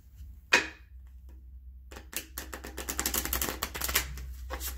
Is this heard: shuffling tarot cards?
yes